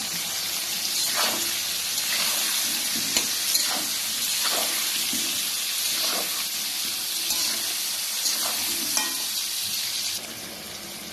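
Potatoes frying with chopped tomato in a pan for chicken biryani, a steady loud sizzle with scattered sharp crackles and pops throughout, the hiss easing slightly near the end.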